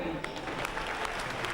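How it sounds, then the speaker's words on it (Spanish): Audience applause fills the center court at the Madrid Masters tennis tournament during a player presentation, a dense, steady crackle of clapping heard at a moderate distance. "Oigan los aplausos"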